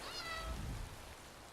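A short single meow from a cat in an Elder Scrolls game, fairly faint and heard alone against soft background ambience.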